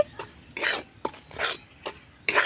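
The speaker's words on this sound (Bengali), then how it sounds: "একটু কাঁচা গন্ধ চলে যাওয়া অবধি নাড়াচাড়া করব চালের গুঁড়োটাকে" Rice flour dry-frying in a pan over medium heat and stirred with a utensil: rhythmic, rasping scrapes in separate bursts, close and fairly soft, with no voices.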